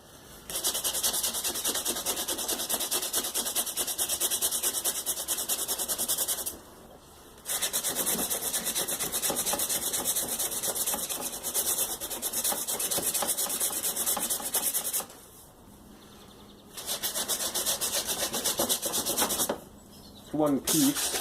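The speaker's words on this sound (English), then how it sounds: "Even this needs a little bit more sanding" Continuous hand sanding, a steady scratchy rasp in long strokes, close up, with a few brief pauses between bursts.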